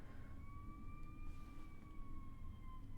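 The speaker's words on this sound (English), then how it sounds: "God, there's so many sirens." A distant siren wails in a slow, steady tone over low traffic rumble, faint and continuous throughout.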